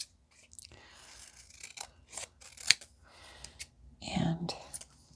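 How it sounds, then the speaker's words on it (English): Quiet, close scissor snips and crisp paper cutting sounds come in short bursts while making a junk journal, with soft whispered speech in between. "So let's grab our scissors."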